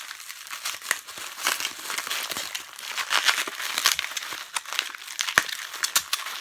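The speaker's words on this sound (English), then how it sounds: "For those of you who don't like the sound of bubble wrap, I apologise, but they do come very well wrapped" Bubble wrap packaging being unwrapped from a mystery box, steady close crinkling and rustling with small crackles throughout.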